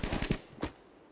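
Rapid bursts of automatic gunfire from the Tarkov Mobile video game, a quick string of shots followed by one more crack, then a fading tail.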